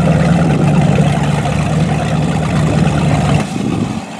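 A 2001 Baja 342 Boss powerboat's engines rumble steadily at close range with the exhaust bypass off, giving a loud, continuous low drone that drops and softens near the end, with no talking.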